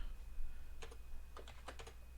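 Quick bursts of clicking keys on a computer keyboard as commands are typed into a terminal, a few clustered taps close by over a quiet low hum.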